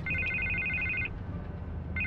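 Telephone ringing in Batman: The Telltale Series, an electronic trilling ring in two bursts separated by a pause, laid over a low ambient background rumble.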